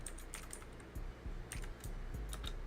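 Someone types on a new computer keyboard, a quick run of close, crisp key clicks in uneven bursts with short pauses between them and no voices.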